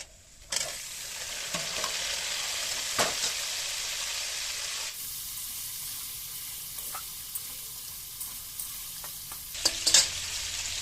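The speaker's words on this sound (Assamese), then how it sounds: "এই মাংসখিনি আছিলে ব্ৰইলাৰৰ মাংসখিনি আৰু এই আলুখিনি একেলগে মই ইয়াত ফ্ৰাই কৰিম" Broiler chicken meat and potatoes fry together in a pan with a steady, bright sizzle that flares louder at moments and shifts after a stir, with no voices.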